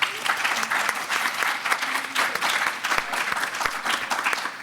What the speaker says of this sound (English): give a big round of applause for our panelists